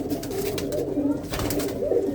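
A fancy loft pigeon in Punjab coos softly and repeatedly up close, low burbling calls rolling over mild background noise.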